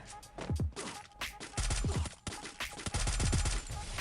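Rapid gunfire from the mobile shooter game Free Fire, with repeated bursts and single shots crackling across four seconds amid game effects and background noise, fairly loud and continuous.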